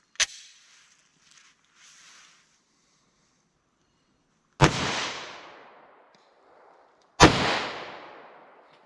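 A Glock 41 pistol converted to 10mm fires Buffalo Bore 220 grain flat nose rounds outdoors. A faint sharp crack comes first, then two loud, close gunshots a few seconds apart, each leaving a long fading echo.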